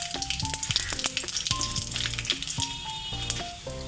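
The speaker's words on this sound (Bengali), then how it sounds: "ভালো করে ভেজে নেব" Whole cardamom pods, a piece of cinnamon and cumin seeds fry in hot oil with a soft, continuous sizzle, heard beneath melodic background music throughout.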